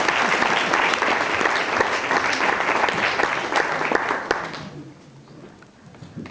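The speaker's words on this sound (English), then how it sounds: "So if we have another round of applause for them." Wedding guests break into a full round of applause during a best man's speech, dense, steady clapping from a large room that fades to a quieter tail near the end, with faint chatter underneath.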